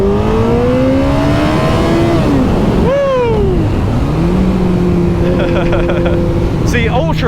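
A Kawasaki ZZR1400 motorcycle engine accelerating hard, loud and close, its pitch climbing through the gears with sharp drops at each shift and a brief rev near the end.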